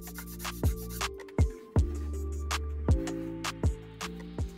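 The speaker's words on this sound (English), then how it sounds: "I used a file to chamfer that piece so it would slide into the dado better." A hand file chamfers a wooden piece for a dado joint, with a series of short scraping strokes, roughly eight to ten uneven rasping passes with sharp onsets, close and fairly quiet, with no talking.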